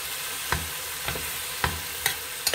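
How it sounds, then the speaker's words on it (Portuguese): Vegetables sauté in a pan for a Brazilian shrimp bobó, a steady close sizzle broken by about five spoon strikes and scrapes against the pan at roughly half-second intervals, with no talking. "Nós vamos refogar isso aqui até dar uma murchada boa"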